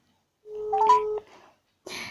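A phone places a call: a few short electronic dial tones and beeps sound close and clear, then stop, followed by a brief burst of a new tone.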